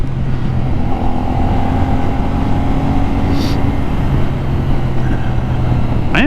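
A CFMoto 450 NK motorcycle accelerating in second gear, its engine a steady, loud drone with rising tones and heavy wind rush throughout, heard close from the rider's position.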